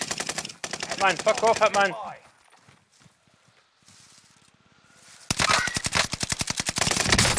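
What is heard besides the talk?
gunfire in the video game Warzone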